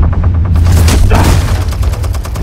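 Loud bursts of gunfire ring out in the Batman Telltale Series game, a rapid run of close, punchy shots over a booming low rumble, with no talking.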